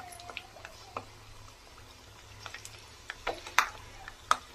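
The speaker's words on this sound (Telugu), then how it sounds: "ఆయిల్ అయితే వేడెక్కింది. కొద్దిగా శనగపప్పు అండి, కొద్దిగా ఉద్దిపప్పు, పల్లీలు, ఆవాలు," Chana dal, urad dal, peanuts and mustard seeds dropped into hot oil, giving quiet sizzling with scattered crackles and pops, sharper spits toward the end.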